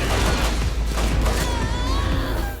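Sustained video game gunfire, with shotguns among the weapons, is loud and continuous, with dense overlapping shots and rumbling booms and no clear gaps between bursts.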